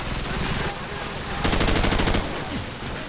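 Automatic gunfire fired from the hip in Call of Duty Modern Warfare 2007, loud rapid bursts with a sustained rattling stretch in the middle, voices briefly talking over it.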